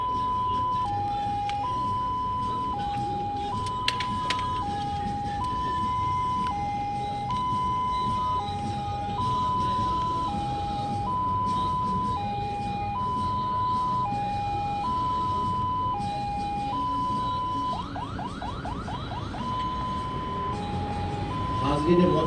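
An ambulance siren at a passing-out parade in Balochistan wails in a steady two-tone alternation throughout, loud and continuous over a low traffic rumble, briefly shifting to a rapid yelp near the end.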